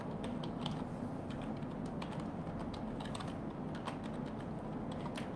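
Steady typing on a computer keyboard, rapid irregular key clicks continuing throughout, faint and close, with no voices.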